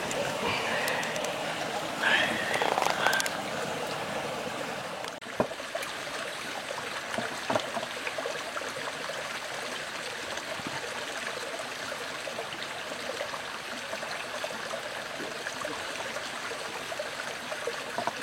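A river stream flowing steadily in the outdoors during a moose hunt, a continuous broadband wash of running water that stays even throughout, with a brief louder disturbance near the start.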